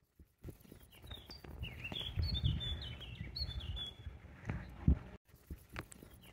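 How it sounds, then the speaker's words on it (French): Small birds in the Alps chirp in thin, high, scattered notes over nearby footsteps and rustling, with the chirps fairly faint against the movement noise. "Cool, on entend les petits oiseaux."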